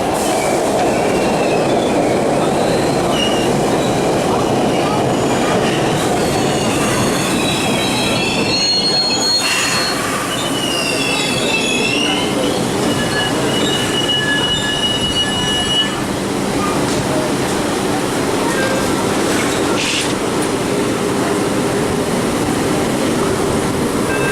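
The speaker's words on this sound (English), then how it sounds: "This is the train, the Orange Line train." A Boston MBTA Orange Line subway train rumbles in steadily with loud, high-pitched wheel squeals and metallic screeching throughout, close and continuous, with no talking.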